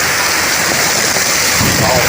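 Heavy rain drums steadily on metal roof sheets, a dense, loud, unbroken hiss and clatter with no pauses.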